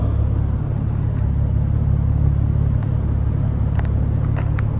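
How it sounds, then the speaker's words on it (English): A Maserati Ghibli idling in a repair shop, a steady low engine rumble holding even throughout with a few faint clicks over it. "it drove itself into the shop and is now idling"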